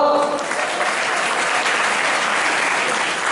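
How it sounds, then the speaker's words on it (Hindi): An audience at a Jain sermon in Malharganj, Indore claps in a loud, dense burst of applause that fills the hall for a few seconds. "ताली बजाओ"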